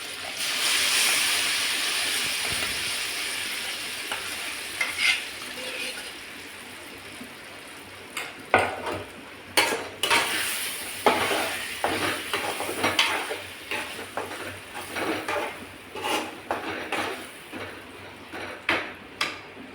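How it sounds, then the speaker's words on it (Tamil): Banana bread halwa stirred in a pan, with a continuous frying hiss overlaid by repeated scraping and clinking of the spoon against the pan, close and fairly loud. "வறுத்த பிறகு அந்த வாழைப்பழ ப்ரெட் அல்வாவை அதில் நம்ம கொட்டி மிக்ஸ் பண்ணி கிண்டணும் அடி பிடிக்காத மாதிரி அதை கிண்டி விட்டுக்கிட்டே வரணும்"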